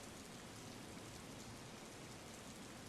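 Steady rain falls in Portland in Microsoft Flight Simulator X, a dense, even hiss of simulated rainfall that is constant and quiet throughout, with no voices.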